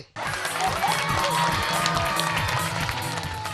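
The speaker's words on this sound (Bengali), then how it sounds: "সাদিয়ার জন্য একটা হাততালি" An audience at a children's comedy show breaks into applause and cheering for a young participant, starting abruptly and staying loud and continuous, with claps and scattered shouts blending together.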